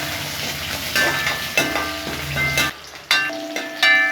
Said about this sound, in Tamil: சேர்த்துட்டு நல்லா வதக்கணும்